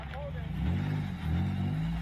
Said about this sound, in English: I'll put these bad boys in four-wheel drive.